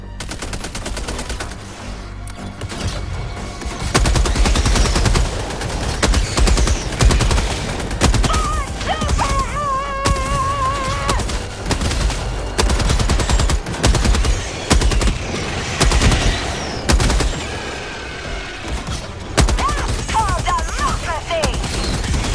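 Sustained machine gun fire from a high-beam machine gun placement in a co-op bug-shooting video game, rattling steadily through the whole stretch amid explosions and game effects, with occasional speech mixed in.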